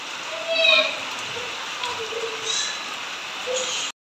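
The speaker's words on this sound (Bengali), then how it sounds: "ওই দেখো কি বৃষ্টি পড়ছে।" Rain falls outside a house in a steady, even patter and hiss lasting the whole stretch, while voices, apparently including a child's, talk intermittently over it before it cuts off abruptly.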